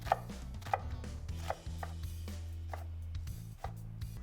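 A knife cuts slits into a red onion on a cutting board, giving about seven or eight crisp, separate chops at an uneven pace. They are close and quiet over a low steady hum, with no voices.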